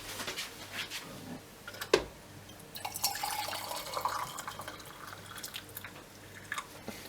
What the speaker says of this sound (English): we need to fill the inside pot